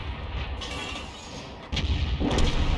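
A tank cannon fires in a World of Tanks battle involving an M53/M55 self-propelled gun, a heavy boom rising abruptly partway through over constant rumbling battle noise, with a commentator talking throughout.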